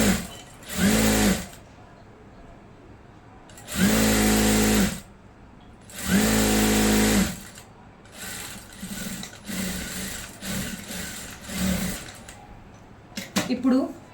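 A sewing machine stitches a seam on salwar pants in several loud, steady bursts of whirring, separated by quieter pauses with soft handling noises, ending with a few light clicks.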